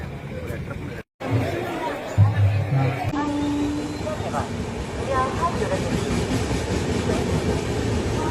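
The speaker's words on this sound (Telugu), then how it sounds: "ట్రైన్ పడుతుంది బ్యాక్గ్రౌండ్." A Vande Bharat train rumbles at Eluru railway station during a welcome event, its low steady roar rising under loud crowd chatter and voices nearby.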